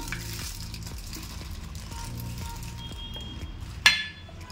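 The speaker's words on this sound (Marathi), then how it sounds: "आणि चांगलं त्याला हलवून घेऊया" A spoon stirs fresh yogurt raita sweetened with sugar in a bowl, making soft rhythmic scraping strokes with light clinks at a steady pace and one sharper clink near the end, with no voices.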